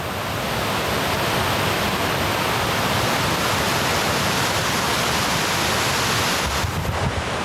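Kuang Si waterfall near Luang Prabang, Laos, pours in a loud, constant roar of rushing water that fills the whole stretch evenly, with no voices over it.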